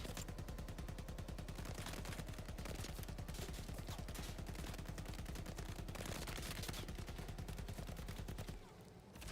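Vehicle-mounted guns in a Borderlands video game fire in a dense, continuous rapid burst for about eight and a half seconds, loud and steady with no voices, then cut off abruptly near the end.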